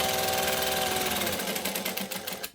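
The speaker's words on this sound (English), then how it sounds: "And now I'm just going to stitch around the edge." A sewing machine stitches around the edge of a handbag pocket with bonded nylon thread. It gives a fast, steady mechanical whir close by that slows and stutters to a stop at the end.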